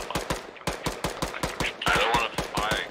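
Rapid gunfire in the video game Arma 3, close sharp cracks in quick bursts and volleys that stop and start, with a brief whooshing burst near the end and no talking.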